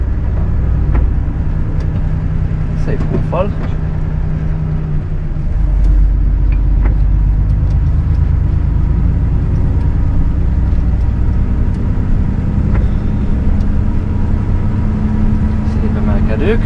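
A car climbs an incline toward a motorway on-ramp, engine braking as the throttle is released: a loud, steady low in-cabin rumble throughout, deepening slightly midway, with a few brief knocks and a short spoken remark over it.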